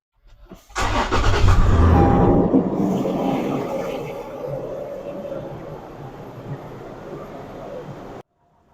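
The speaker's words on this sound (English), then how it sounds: "We're going to go ahead and turn on the engine and then let it run so it can clear the rest of the air bubbles out." Gen5 Toyota 4Runner engine cranks and catches, surges loudly for a couple of seconds, then settles into a steady, quieter idle until it cuts off.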